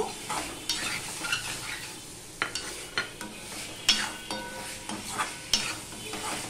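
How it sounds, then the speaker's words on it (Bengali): Pointed gourd is stirred and fried in a pan, soft sizzling under a series of sharp utensil scrapes and taps against the metal, fairly quiet and close, with no voices. "পটলগুলোর সাথে আমি একটু মিশিয়ে কষিয়ে নেব"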